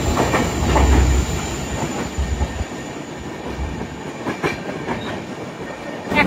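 The Kulik Express passenger train moves through Rampurhat station in Birbhum, with loud close rumbling wheels, rhythmic clickety-clack over rail joints and brief squeals, no voices.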